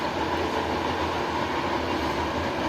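A toy train sounds off in a shopping mall, a steady, dense rumbling train noise with a low hum that runs unbroken throughout, with no talking.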